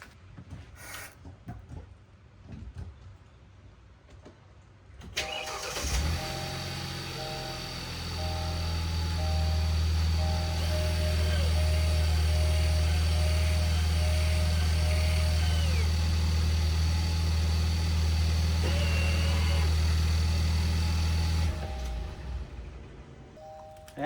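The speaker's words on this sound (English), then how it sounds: "we can engage the parking brake so that this motor will also drive all the way out to its stop" On a Kia Ceed, the rear electric parking brake motor drives the caliper out to its stop, producing a close, steady whirring hum that starts abruptly, holds for about seventeen seconds and then cuts off.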